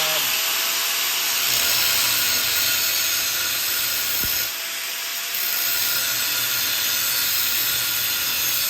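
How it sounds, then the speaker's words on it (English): Steady broadband saw noise runs nearly unbroken while cutting through a live edge wood slab, with a brief pause midway before the loud, even rasp resumes close by. "Cut through one side. Flip it over. Cut through the other side."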